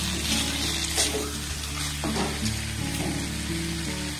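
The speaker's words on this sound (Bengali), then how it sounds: "সমস্ত উপকরণ 1 মিনিটের জন্য ঢাকা দিয়ে খুব ভালোভাবে নাড়াচাড়া করে আমি কষে নিয়েছি।" Potatoes and spices fry in a pan for an Indian-style potato curry, a close steady sizzle with scraping stirring strokes throughout and no voices.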